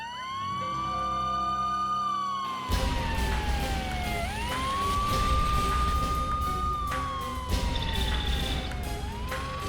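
A fire engine siren wails, sweeping up and down continuously, loud and close, with traffic rumble beneath and a second siren tone joining partway through.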